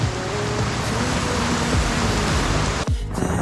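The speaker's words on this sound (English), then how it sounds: "That is a lot of rain." Heavy rain from Cyclone Alfred pours down in a dense, steady roar, with rushing water close by and a brief dip in the noise near the end.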